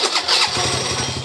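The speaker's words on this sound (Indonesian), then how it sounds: "Tes sekali lagi untuk starternya" Honda Beat carbureted scooter engine starting on the electric starter, a brief whirring crank that catches into a quick, close putter of idle.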